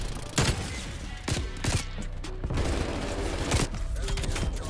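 OTS 9 submachine gun firing in Call of Duty Cold War: loud bursts of rapid gunfire with sharp shot transients over dense game noise.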